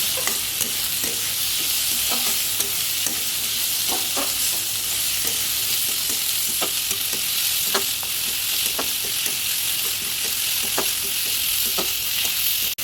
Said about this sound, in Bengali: এবার দিয়ে দিলাম টমেটো। এবার গ্যাসটাকে বাড়িয়ে কিছুক্ষণ নেড়ে দেবো।